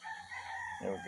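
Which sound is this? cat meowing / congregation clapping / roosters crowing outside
roosters crowing outside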